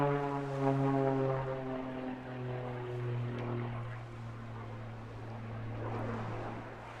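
A Pitts Special aerobatic biplane flies at a seaside airshow, its propeller engine droning steadily from a distance with shifting pitch as it manoeuvres, moderately loud and without speech.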